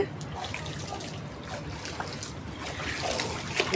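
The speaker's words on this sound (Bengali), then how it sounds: "বৃষ্টি সারা রাত বৃষ্টি আজকে" Steady trickling and dribbling of rainwater across a flooded rooftop after a night of rain, a continuous close wash of water with faint splashes and no clear talk.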